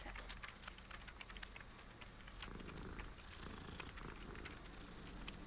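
A cat in the Hogwarts Legacy video game purrs steadily while being petted, a soft continuous rumble at moderate level with faint game ambience and no talking.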